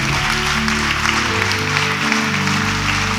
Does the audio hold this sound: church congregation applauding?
yes